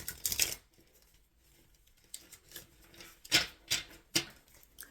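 Several quick papery riffles and slaps of a tarot card deck being shuffled, close up, in short bursts with brief pauses between.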